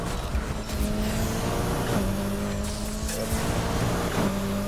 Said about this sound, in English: And this GT2 takes off like that.